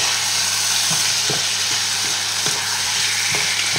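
Sausages and bacon lardons with pepper and bouquet garni herbs are stirred in a pot for a sausage-and-lentil dish: a steady loud sizzle with regular scraping knocks of the spoon, about one every half second.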